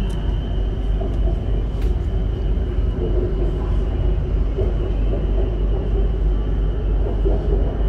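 A Bangkok BTS Skytrain on the elevated Sukhumvit line runs past with a steady, loud low rumble and a constant hum, no voices.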